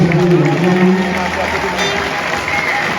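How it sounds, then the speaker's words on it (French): Crowd applause at a handball event in Val d'Europe, a steady wash of clapping that runs the whole way through, with voices talking over it. "vous pouvez applaudir parce qu'il a mis une ambiance incroyable"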